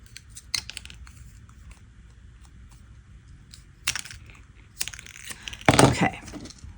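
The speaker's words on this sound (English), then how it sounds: "I'm gonna cut these pieces a little bit smaller and just add them" Scissors snip through thin plastic straw pieces for a repurposed art project, giving a few sharp, close cuts spaced irregularly, with the loudest crunching snip near the end over a quiet room.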